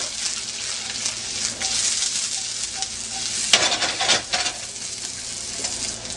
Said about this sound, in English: Onions frying.